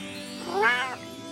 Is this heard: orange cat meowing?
yes